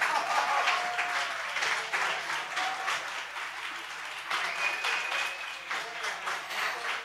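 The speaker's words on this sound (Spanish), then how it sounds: "Un fuerte aplauso." An awards ceremony audience applauds continuously, a dense crowd clapping that swells and eases in waves, with some faint cheering mixed in.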